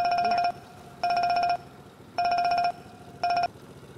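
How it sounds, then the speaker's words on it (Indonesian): A telephone rings in four regular bursts, each about half a second long with short gaps, loud and close, with no talking over it. "maaf Bu, saya ada telepon."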